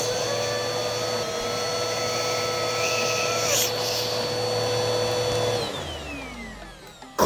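Cartoon-style vacuum cleaner effect: a loud steady droning motor whine with layered tones that bends and drops in pitch as it sucks something up, ending with a brief pop.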